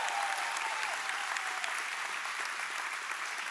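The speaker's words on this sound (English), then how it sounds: "Let's give him one more clap, church." A church congregation applauds on Easter Sunday, a steady, dense wash of clapping from many hands that holds at an even level throughout.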